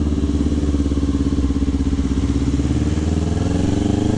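A Kawasaki Ninja motorcycle idling close by with its aftermarket exhaust, a loud low rumbling engine note pulsing in a steady rapid rhythm throughout, no talk.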